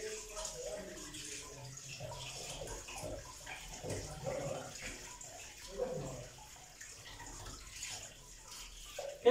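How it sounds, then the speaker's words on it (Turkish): Hot tap water running steadily over fish being washed at a kitchen sink, a soft continuous splashing under occasional quiet talk. "Şöyle balığımızı güzelce yıkayalım sıcak suyla."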